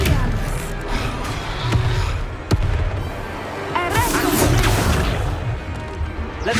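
The Expelliarmus spell is cast in the Hogwarts Legacy video game, producing loud, crackling bursts and crashing impacts with sharp cracks, a whooshing magical surge and rumbling booms throughout.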